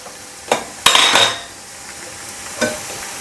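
A chapati turned over on a hot pan after oil is added, giving a few short scraping clatters of a spatula against the pan and a faint sizzle, the loudest burst in the middle and a softer clink near the end.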